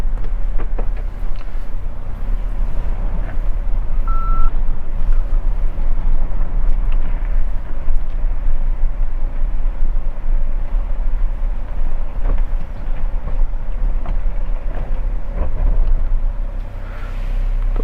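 A Mahindra Thar engine reversing downhill, a steady low drone that holds throughout with faint intermittent clicks and rumbles, no talking.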